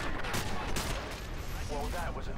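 Gunfire in the video game MW2 Special Ops: dense, continuous bursts of shots throughout, fairly loud and close, with a person talking over the shooting.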